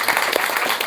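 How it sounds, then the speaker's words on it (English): Brief burst of audience applause for devotees, a dense patter of many hands clapping, fairly close and loud for under a second. "Give an applause to all devotees."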